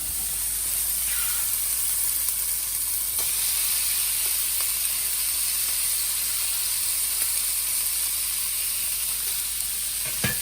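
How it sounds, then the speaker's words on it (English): Halushki with Polish sausage sizzles steadily in a hot saute pan, a constant crackling hiss with occasional faint taps, with no voices. "And there's the sizzle I'm looking for."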